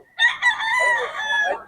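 A rooster gives one loud, close crow among a flock of chickens, alone with no talk.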